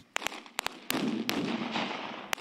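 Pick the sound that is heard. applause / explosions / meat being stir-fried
explosions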